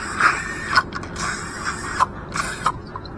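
Spray cleaner hisses in repeated short bursts into a Yanmar diesel fuel injection pump on a workbench, close and fairly quiet, over a steady low background hum.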